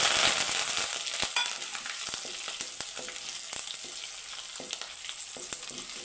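Dried red chillies, garlic and curry leaves sizzle in hot oil for a South Indian tempering, a steady bright crackle with scattered sharp pops and spatters, close and continuous throughout with no voices.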